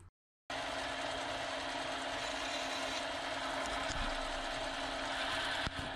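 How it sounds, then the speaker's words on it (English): A hacksaw cuts stainless steel stock turning slowly on a lathe, making a steady, even mechanical grinding and rasping that runs unbroken after a brief silent gap at the start. "you want to run the lathe at slower speeds when cutting it with the hacksaw"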